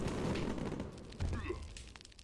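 Fireworks rockets set alight in the video game Uyanma Oyunu burst with crackling pops and a deeper boom, brief close explosions mixed with someone talking.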